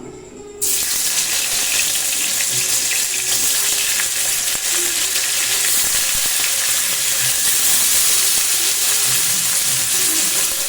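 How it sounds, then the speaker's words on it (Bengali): Paneer frying in hot oil in a wok, a steady close sizzle that starts abruptly after a brief quiet moment and holds loud and continuous throughout, with occasional stirring scrapes. "তার মধ্যে দিয়ে দিলাম তেল পনিরটা আমি আর ভেজে নেবো"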